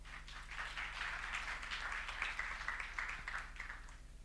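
A conference audience gives a speaker a steady round of applause. The clapping is faint and distant and runs evenly for a few seconds.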